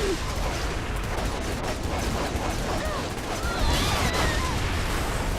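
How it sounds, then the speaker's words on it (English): Dense, continuous gunfire from Saints Row: The Third, shots fired at police in their vehicles, forming a loud, rattling barrage with crackling bursts and no talk over it. "I'm trying to shoot them while they're in the vehicles."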